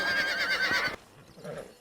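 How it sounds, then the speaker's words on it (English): A stallion in the Red Dead Redemption video game gives a loud, close, wavering neigh, followed by a quieter stretch of faint hoofbeats and rustling. "Hey, the stallion's getting away!"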